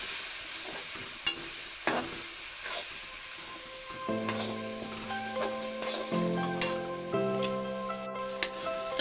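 Turmeric and garam masala frying in oil with steady spoon stirring, a continuous close sizzle broken by sharp ticks and scrapes, with a faint tonal hum in the background and no talk.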